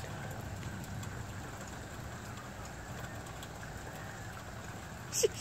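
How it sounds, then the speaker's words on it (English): A steady, soft wash of rain falls outside on an all-day rainy day, faint and continuous with no voices. "So it's been raining all day"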